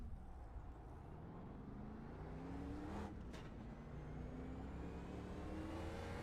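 A race car lapping in a racing video game at Talladega or Fontana drones steadily, its engine note climbing slowly in pitch under a constant rumble, with a short whoosh partway through and no speech.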